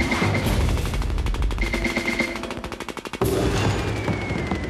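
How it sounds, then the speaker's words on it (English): The Fleming machine gun in the video game Armed and Dangerous fires a loud, rapid, continuous burst of gunfire, each shot evenly spaced, with a brief break before the barrage resumes. No one speaks. "the Fleming machine gun carries a clip size of 100 shots, fires at a rate of 50 BPS"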